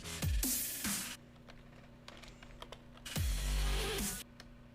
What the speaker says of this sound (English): I was typing the news in